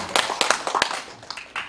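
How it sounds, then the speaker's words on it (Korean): A few scattered claps from a church seminar audience, sparse and uneven, a handful of short sharp hits over quiet room sound. "와도 되면 좀 박수 좀 쳐주십시오"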